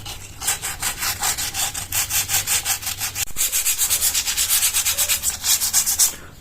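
Fine sandpaper rubbing over cured polyester body filler on a car panel, a close, loud rhythmic rasp of steady back-and-forth strokes that repeat evenly throughout.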